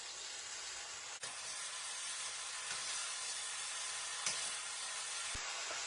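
Chow mein noodles and vegetables stirred in a sizzling pan, a quiet steady hiss of frying with a few soft clicks from stirring and no voices.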